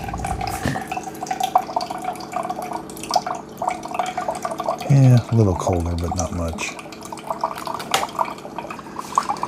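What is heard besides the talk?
Keurig K-Brew+Chill coffee maker dispensing water, cold side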